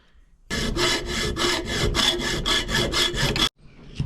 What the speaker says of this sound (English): We're going to take the hacksaw and we're going to cut lengthwise all the way down.